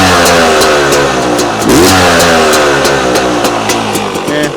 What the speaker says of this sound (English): Watch when I blip the throttle.